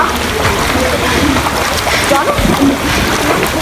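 Water splashing steadily in a swimming pool at a family park as someone swims, a constant close wash of churning water with voices faintly mixed in.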